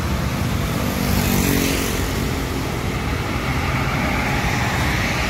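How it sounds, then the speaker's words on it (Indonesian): Two buses drive in convoy along a road, giving a loud, continuous broadband engine and road roar with a slight swell near the start, recorded close with no talking. "Ada dua bus iring-iringan ya."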